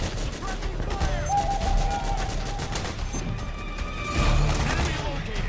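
Metal Gear Solid 4 game gunfire crackles in rapid bursts under shouted soldier voices, with a swelling flurry of shots near the end.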